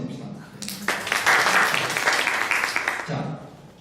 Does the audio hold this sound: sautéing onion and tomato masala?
no